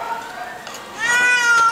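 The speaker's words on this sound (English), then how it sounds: "Oh, Siamese kitties do like to talk." A Siamese cat named Shalimar, a big six-year-old female at a rescue league shelter, meows close up in a couple of drawn-out, rising calls, with a person speaking softly around them.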